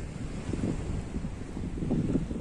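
Ocean waves wash at the seaside in a continuous low rumble, with wind buffeting the microphone throughout and no voices.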